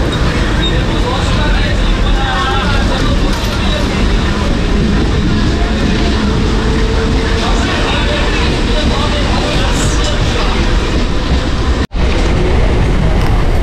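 A Sealdah–Gede local train rumbles loudly and continuously through rainy rural Bengal, with a steady roar and rattle of the carriages and a brief dropout near the end.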